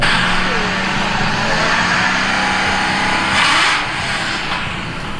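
A pickup truck engine revs outside a shop, giving a loud, sustained throaty roar with a brief rise in pitch midway before easing slightly, close to the listener.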